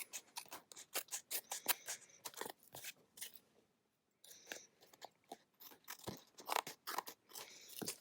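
Scissors trim the paper edges of a small mixed-media collage, making close, crisp snips and crunching cuts in quick bursts with a brief pause midway.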